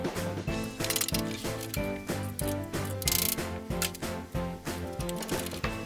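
Screws on the L-shaped mounting bracket of a Rinnai RKW404 dishwasher are tightened, producing fast rhythmic ratcheting clicks in repeated bursts, loud and close.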